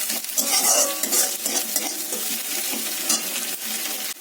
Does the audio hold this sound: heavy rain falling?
no